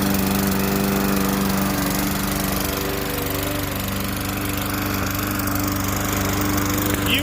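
A loud lawn mower engine drones continuously up close, a steady, unbroken roar with no pauses.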